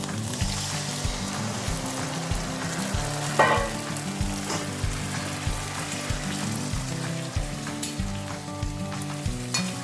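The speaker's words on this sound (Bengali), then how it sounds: "এবার আমি রাজমাটাকে ঢেলে" Kidney beans (rajma) fry with browned onions in a pan, making a loud, steady sizzle with repeated scraping stirs and spatter throughout.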